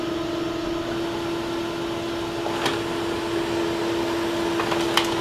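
A Canon ImageCLASS MF634Cdw color printer runs while printing a page, giving a steady mechanical hum with a sustained tone and a couple of brief clicks near the end, no talking.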